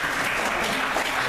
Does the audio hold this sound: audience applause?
yes